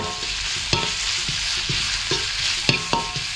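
Hot oil fries steadily in a pan while a utensil stirs and taps against it in irregular clicks and scrapes, a close, constant sizzle with no talking.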